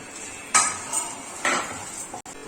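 Dry spices roasting in a pan while they are stirred for a Udupi sambar, with a few distinct metallic scrapes and clinks of a spoon against the pan and no talking.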